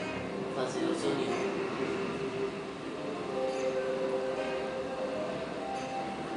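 A subway train in the video game LittleBigPlanet rumbles steadily with a droning hum and faint rattles throughout, while a voice murmurs quietly beneath it.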